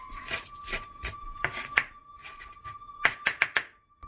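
A knife chops a rolled Japanese omelet on a board in a series of sharp, close taps, a few spaced strokes first and then a quicker cluster of cuts near the end, over a faint steady hum.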